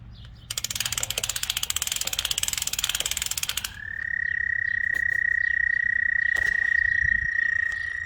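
A rapid mechanical rattling clicks for a few seconds, then a long, steady toad trill rings out loudly, with a brief click near the end.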